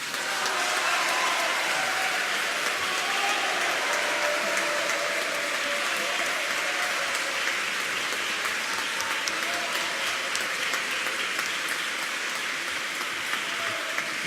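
Audience applause after a specialist's talk on abortion, a dense, steady wash of many hands clapping that holds at an even level for the whole stretch, with no voices standing out.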